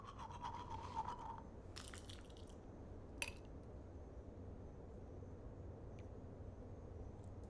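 Scrubbing of a toothbrush on teeth in the video game Life is Strange comes in a few brief, soft bursts at the start over a quiet, low background hum.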